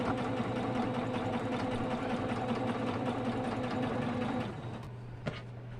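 A sewing machine stitches at a steady, fast rhythmic whirr for several seconds, then winds down to a low hum with a couple of sharp clicks at the end, close and moderately loud.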